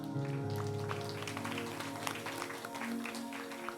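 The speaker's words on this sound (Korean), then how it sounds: "함께 하신 주님께 영광의 박수 올려드리겠습니다." A congregation at a Wednesday evening worship service in a Baptist church claps in a steady, dense patter, with sustained music tones underneath.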